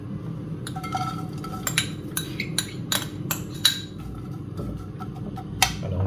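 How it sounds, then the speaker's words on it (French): Chopped spinach goes into a hot oiled frying pan and is stirred, giving a steady low sizzle with sharp metallic clinks and scrapes of a utensil against the pan, close up and with no talking. "on va faire cuire les épinards"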